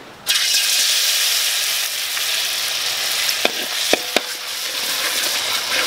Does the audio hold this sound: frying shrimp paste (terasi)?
yes